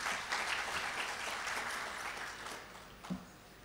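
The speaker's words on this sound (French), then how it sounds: "Est-ce qu'on peut l'applaudir" Audience applause at an energy and mining conference, a steady crowd clapping that holds for several seconds and fades slightly near the end, with no talking over it.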